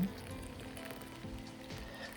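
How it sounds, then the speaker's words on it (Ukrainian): Boiling water poured over dried sprats, a soft continuous hiss and patter of liquid hitting the fish, quiet and close, lasting only a couple of seconds with no talk. "Я залив кип'ятком"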